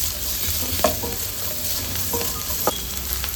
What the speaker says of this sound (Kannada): 2 ಮೀಡಿಯಂ ಸೈಜ್ ಈರುಳ್ಳಿನ ಫ್ರೈ ಮಾಡ್ಕೊಳ್ತಾ ಇದ್ದೀನಿ